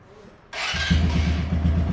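An aftermarket exhaust on a 2025 Suzuki GSX 125 motorcycle bursts into sound and then settles into an even, thumping idle, close and steady, with a breathy rush over the low pulses.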